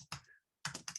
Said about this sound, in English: Sorry, my typing is a little slow tonight.